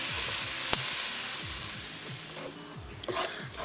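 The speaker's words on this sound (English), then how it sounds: "we're going to allow this to continue to cook until everything caramelizes and that onion is tender and sweet." Onions with salt sizzle steadily as they caramelize in a pan for a chicken cheesesteak, a constant close frying hiss with a few sharp clinks of a utensil scraping and stirring, no talking.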